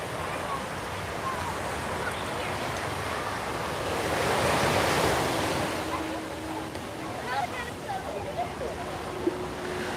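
Surf washes steadily onto a busy Waikiki beach, a continuous close roar of breaking waves mixed with wind buffeting the microphone, swelling slightly in the middle.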